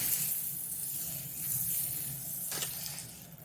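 Butter sizzles steadily on a hot stovetop grill, a continuous close hiss with a brief louder crackle midway.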